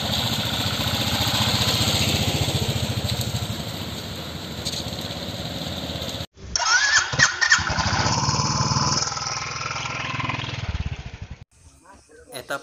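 A motorcycle engine runs loud and close, with a steady droning idle, then cuts off briefly and starts again with rougher, uneven throttle bursts before fading near the end.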